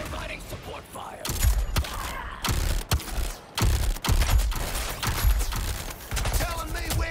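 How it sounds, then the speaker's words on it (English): Bursts of automatic gunfire in the video game Suicide Squad: Kill the Justice League, loud repeated volleys and heavy impacts coming in uneven clusters with brief pauses, close and dominant throughout. "Providing support fire!"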